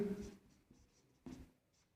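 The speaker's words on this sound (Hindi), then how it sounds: "नोट में लिखेंगे।" A pen writing notes on paper during a reasoning class, heard as a couple of brief, close scratchy strokes with soft gaps between them.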